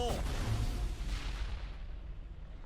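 A grenade blast in Mass Effect Legendary Edition on Insanity difficulty, a heavy boom at the start that decays into a long fading rumble.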